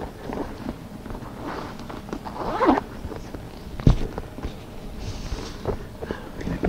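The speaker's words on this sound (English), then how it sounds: "on the other wall, you have a zipper compartment." The zipper on a compartment of a Dooney and Bourke handbag is pulled with a short, close rasping zip, amid soft handling rustles and light bumps.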